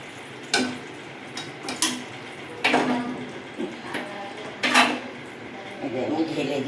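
Metal utensil clinks and scrapes against a pan as cooked lote fish sour curry is poured out, several sharp irregular knocks and clatters close by.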